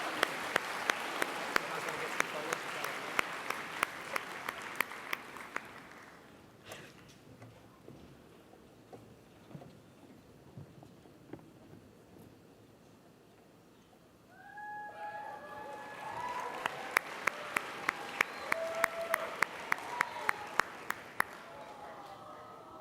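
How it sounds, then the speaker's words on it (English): Audience applause at the AVCon 2013 cosplay competition for Smash Brothers Brawl cosplayers: a loud burst of clapping, a quieter lull with scattered claps, then a second swell with whistles and cheers from the crowd. "Can we have a big round of applause for Smash Brothers Brawl?"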